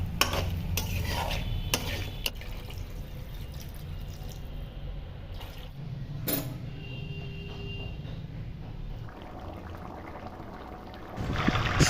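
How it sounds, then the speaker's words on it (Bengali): Fried potatoes and crab being stir-fried with spice paste in a pan, with a low, constant sizzle and a few sharp clinks and scrapes of a utensil early on, followed by quieter stirring and no voices. "এই সময় ভেজে রাখা আলু ও কাঁকড়া দিয়ে মশলার সাথে মিনিট দেড়েক মতন কষে"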